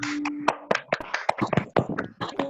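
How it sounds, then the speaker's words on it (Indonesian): A group performing the Tepuk Pramuka scout clap at a morning health talk show, with sharp rhythmic claps in quick patterned bursts over a low background hum. "kita semangat pagi dengan 2 kali Tepuk Pramuka"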